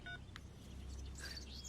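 Phone keypad tones beep in a short burst of distinct dialing presses, followed by faint electronic chirps, all fairly quiet with no speech.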